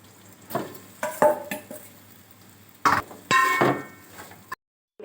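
Rice seasoned with garam masala and pepper powder is stirred through in a pan for a simple potato rice, giving a run of scraping, clattering strokes with a sizzle underneath, followed by a brief pause.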